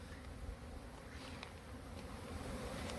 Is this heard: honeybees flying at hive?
yes